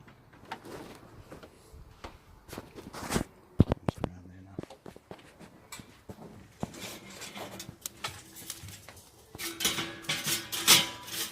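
Metal charcoal baskets clank and scrape as they are set into the middle of a Weber Performer barbecue, giving a few sharp, close metallic knocks among quieter shuffling handling noises.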